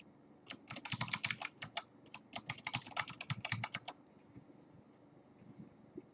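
Rapid typing on a computer keyboard, with a dense run of close key clicks in two bursts that stop after about four seconds, leaving quiet.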